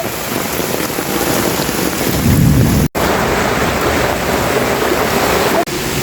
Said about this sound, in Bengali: উপর দিয়ে পানি পড়তেছে